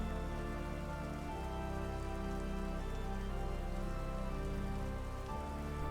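Rain falls in the rainy biome of the Roblox game Sols RNG, a steady hiss of droplets on surfaces blended with a constant droning musical bed, even and unbroken throughout.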